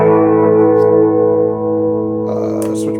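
Guitar played through a high-end delay and reverb effects pedal, with both effects engaged: one loud sustained chord rings out with smooth echoing tails and a brief higher flutter near the end, with no talking.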